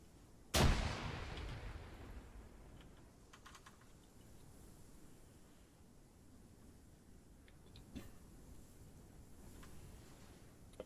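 A single grenade blast goes off during military training, a sharp, heavy boom whose low rumble decays over a couple of seconds before fading into quiet outdoor ambience with a few faint clicks.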